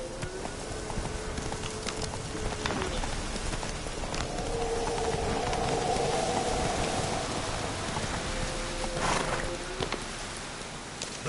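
A horse clip-clops at a steady trot through rain in The Witcher 3: Wild Hunt on PS4, with hoofbeats under a constant patter of rainfall and faint tonal game sounds in the background.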